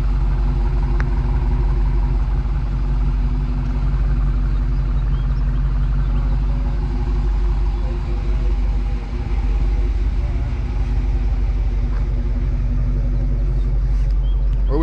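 Dodge Charger RT and Challenger RT with Mopar Hemi V8 engines and muffler deletes, giving a loud, steady low rumble close by that holds through with little break.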